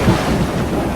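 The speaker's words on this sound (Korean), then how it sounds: "갑자기 먹구름이 몰려오더니 굉음과 함께 빛이 내려옵니다." A short, heavy roll of thunder from a storm rumbles low and loud, with no voices over it.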